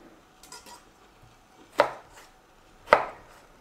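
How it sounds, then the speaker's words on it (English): Vegetables being cut into cubes on a board for a vegetable lasagna, a few soft light cuts followed by two sharp, loud knife chops spaced about a second apart, close up with no voices. "We're going to cut all these pieces into these cubes, and then we will fry them."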